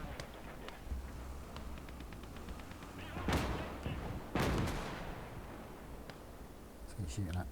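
Gunfire in Call to Arms: Gates of Hell during an arctic Finland skirmish, with two loud, heavy blasts near the middle and smaller scattered shots and battle rumble around them.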